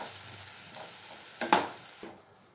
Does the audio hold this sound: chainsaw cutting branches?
no